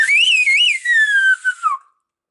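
A single Silbo herreño whistle from El Hierro, a loud, clear, close whistled phrase with rising and falling pitch glides that ends in a long descending tone, heard alone.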